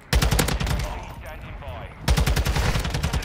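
SCAR (Taq-56) assault rifle fired in Call of Duty: Modern Warfare 2 beta multiplayer, two loud rapid automatic bursts separated by a short gap, close and punchy.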